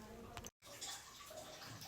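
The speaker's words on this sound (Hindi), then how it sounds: "आवाज़ आ रही होगी पानी की।" Running water flows steadily while being collected in a corner of a home in India for washing clothes, a continuous splashing wash with a brief dropout partway through.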